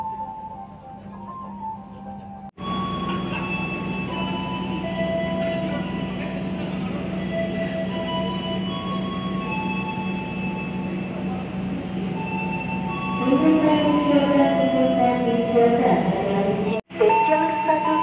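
Indonesian economy-class train KA Bengawan on the Jakarta–Yogyakarta–Solo line, heard from inside a carriage: a steady loud rumble of wheels on rails with tonal whines and rising squeals near the end, continuous for the whole stretch.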